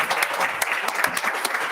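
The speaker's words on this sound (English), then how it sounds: "can we give him another round of applause," Brief burst of audience clapping for a student presenter at a youth pitch competition, dense and steady with no voices, heard up close.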